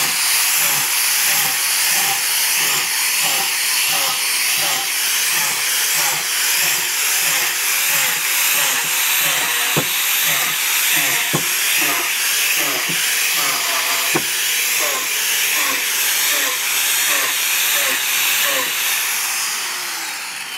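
Power drill boring holes into a log for shiitake inoculation: a loud, steady high whine runs throughout, with rhythmic pulsing and a few sharp knocks as the bit works through the wood.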